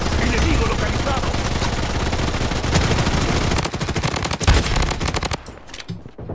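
Rapid bursts of automatic gunfire from a weapon in the Blood Strike shooter game rattle loudly and almost continuously, then break into choppier, sharper volleys, with players talking over the shooting.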